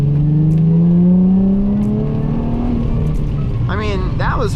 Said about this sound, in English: that was floored in second and we got traction